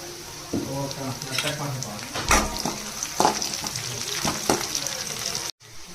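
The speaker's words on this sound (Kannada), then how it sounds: "ಹಸಿ ವಾಸನೆ ಹೋಗೋವರೆಗೂ ಸ್ವಲ್ಪ ಫ್ರೈ ಮಾಡಬೇಕು, 2 ನಿಮಿಷ." Spices sizzling in a hot pan for egg rice, a continuous frying hiss punctuated by several sharp stirring and scraping knocks, close and moderately loud, cutting off abruptly near the end.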